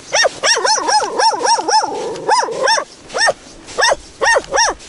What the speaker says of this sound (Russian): О, собака бежит нас встречать.